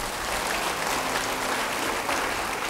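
Audience applause at a church sermon: dense, steady clapping from a large crowd filling the whole stretch, loud and continuous with no talk over it.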